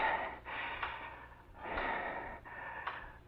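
A man gasps and breathes heavily in bed in a 1949 radio suspense drama. The breaths come in three or four loud, ragged bursts, close and alone, with no talk.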